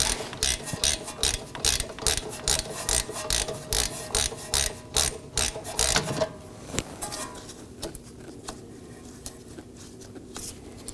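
A ratchet clicks in a fast, loud, regular series of pulls while the caliper slider pin bolts on a 2018-2024 Chevrolet Equinox rear brake are broken loose, then the ratcheting stops and leaves a quieter mechanical hum.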